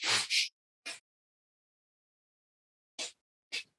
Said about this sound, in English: let's say do a breath of fire